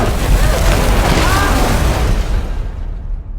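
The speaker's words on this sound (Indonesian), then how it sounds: "bom pun meledak tiba-tiba" A bomb explodes in an action film, with a deep, loud rumbling boom and crackling debris that roll on for a few seconds before fading quickly into silence.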